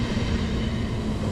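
Dense, roaring rumble of an ICE1 high-speed train pulling into a German station, broad and loud with a low drone throughout, no voices.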